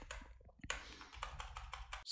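Keys pressed on a computer keyboard, including shift, while working in After Effects: a quick series of close, quiet clicks and taps in irregular rhythm, with no talking.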